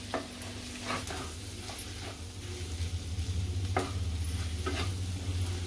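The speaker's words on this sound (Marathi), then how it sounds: "तर ही प्रोसेस आपल्याला फास्ट करायची आहे, पटापट मिक्स करायचं आहे." Scrambled eggs for anda bhurji sizzle steadily in a hot pan while a utensil stirs and scrapes through them quickly, with a few sharp clicks along the way.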